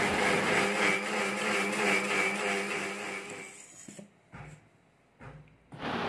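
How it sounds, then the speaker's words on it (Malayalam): Electric mixer grinder blending ripe mango with milk into a milkshake whirs loudly and steadily for about four seconds, then cuts off, leaving brief clunks and faint knocks from the jar. "നമുക്ക് മിക്സിയിലൊന്ന് അടിച്ച് എടുക്കാം."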